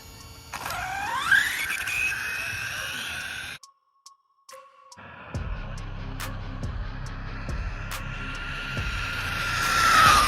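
An RC car with a GTFans M610 5400kv motor and 120A ESC on a 14t pinion whines up to full throttle, drops to near silence, then climbs again in a rising high-pitched electric scream.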